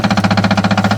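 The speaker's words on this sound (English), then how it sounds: "Apologize about the noise of my golf cart" A golf cart engine idles steadily close by, its rapid, even pulsing throb continuing throughout with no voices.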